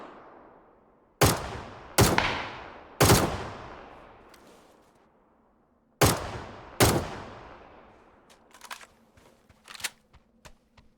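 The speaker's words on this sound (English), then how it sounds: "there's a guy shooting you" Gunfire in PUBG: Battlegrounds, five loud, evenly spaced single shots with ringing decays, a pause, then a scatter of quieter, sharper clicks and distant shots.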